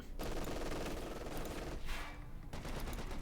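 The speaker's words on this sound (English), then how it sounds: "MG-42 firing away" Sustained MG-42 machine-gun fire in a Company of Heroes 2 battle, dense rapid bursts with layered gunfire and explosions, loud and continuous throughout with a brief dip before resuming.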